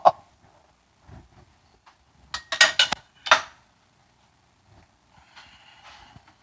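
A utensil stirs General Tso sauce with cauliflower in a pan, giving sparse clinks and scrapes and then a short cluster of louder metallic knocks before it goes quiet again.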